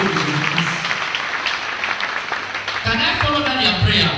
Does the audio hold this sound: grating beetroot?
no